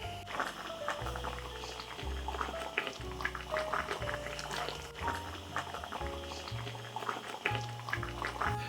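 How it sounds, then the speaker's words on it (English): Ready-cooked whole grain rice simmers in a pan with a soft, continuous bubbling and crackle, fairly quiet and close, over a steady low hum. "I'm just going to have the ready in 2 minutes whole grain rice, and just let that sort of simmer away there until it's cooked through"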